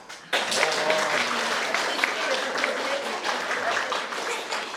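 An audience of grandparents and family breaks into sustained clapping at a children's Grandparents' Day performance, a dense steady wash of applause that starts suddenly and carries on with voices mixed in.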